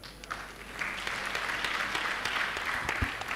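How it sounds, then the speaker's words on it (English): Audience applause fills a room at an entrepreneurs' meet: a dense, steady wash of many hands clapping together, sustained and fairly loud for the whole stretch with no voices rising above it. "Give a big round of applause to that."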